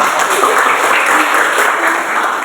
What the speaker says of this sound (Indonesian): Tepuk tangan sekali lagi untuk Kevin